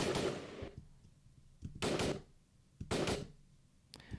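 Three sharp, loud gunshot-like bursts spaced about a second apart, each with a brief decaying tail, plus a fainter click at the end.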